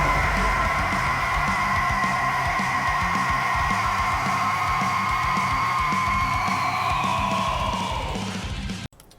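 Aggretsuko, the cartoon red panda, lets out a rage scream: one loud, sustained, strained vocal note held for about eight seconds over a rough backing, then cut off sharply at the end.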